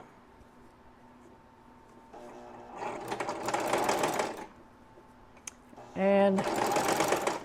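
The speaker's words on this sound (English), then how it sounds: "the little grippy side is kind of clinging to the bottom of my sewing machine, but it's going through just fine." Sewing machine stitching a seam close to the fabric's edge, two quick bursts of rapid mechanical whirring separated by a pause, with a person's voice briefly talking between them.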